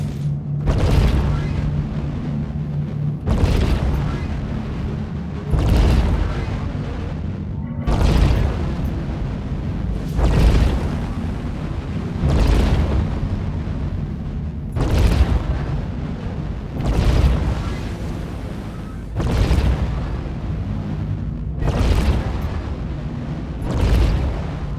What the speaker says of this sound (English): compare those Behring sounds to what the Javelin's laser cannons sound like